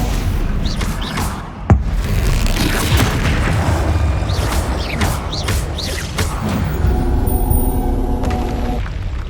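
A Bombarda spell blast in the Hogwarts Legacy video game, a sharp boom near the start over dense, continuous battle noise and rumbling effects, loud and busy throughout.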